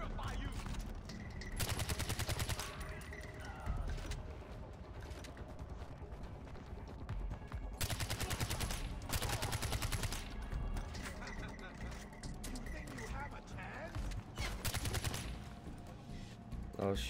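Gunfire in the video game Far Cry 4, including sniper shots, comes as loud, sharp bursts in repeated volleys with short gaps between them and a steady game background underneath.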